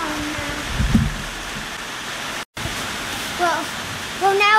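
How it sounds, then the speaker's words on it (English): Rain falls steadily in a backyard where a lawn mower was being repaired, a broad wash of hiss with a brief dropout, while faint voices and a few squeaky sounds come through late on. "Well, now it's raining"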